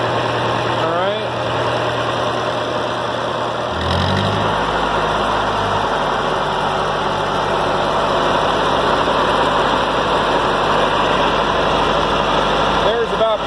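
Ford 8N tractor engine runs steadily at PTO speed, about 1500 RPM, a loud continuous drone with a clear pitch change near the start before settling into an even hum, with someone talking over it.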